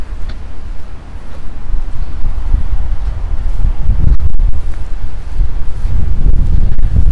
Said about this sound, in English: we're gonna get quite a bit more wind in this area. That's where all the wind's coming from at the moment, the north, northeast wind today.